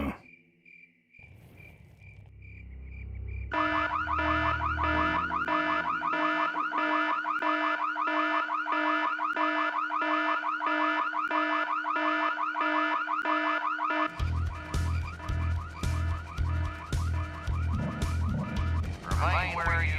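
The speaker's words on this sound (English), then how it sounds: "Well, who set off the alarm, Floyd?" A car alarm in the game Full Throttle Remastered blares loudly, beginning with a short chirp and then cycling through repeating electronic wails and tone patterns that change midway into rapid pulsing beeps.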